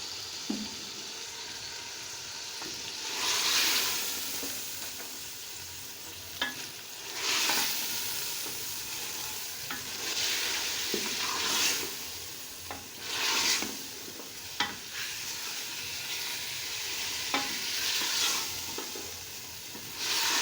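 Chicken pieces for korma sizzle steadily in hot oil in a pan. A spoon stirs and scrapes through them every few seconds, making sharp bursts of noise that stand out over the constant frying, close by with no talk.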